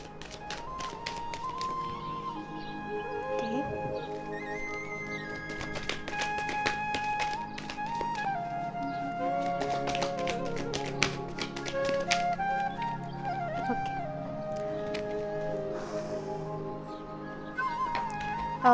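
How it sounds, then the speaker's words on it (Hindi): Tarot cards being shuffled by hand, a dense run of quick soft tapping and riffling clicks that keeps going throughout, fairly close, with steady background music and no talk. "तो मैं पहले शफल कर लेती हूँ कार्ड्स"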